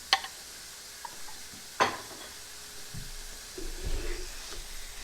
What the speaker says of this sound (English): we're going to saute these guys for about 12 minutes